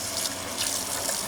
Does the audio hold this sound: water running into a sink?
yes